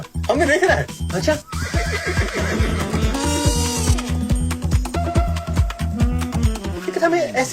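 A horse neighs loudly and repeatedly in a long, shaking whinny close by, with people's voices around it.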